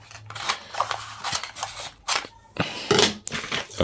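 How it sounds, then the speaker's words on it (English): Scissors cut through printed photo paper in a few close, crisp snips and rustling crunches, irregular and fairly loud, with no speech. "I've cut the paper at the back"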